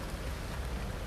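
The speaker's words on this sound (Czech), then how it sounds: "Sákra, musí dneska pršet." Steady rain falls at an outdoor flea market in Prague, a soft, even hiss of drops with no voices, heard only briefly.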